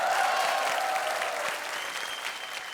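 Dense audience applause at a comedy show fills the whole stretch, loud and continuous, slowly thinning toward the end.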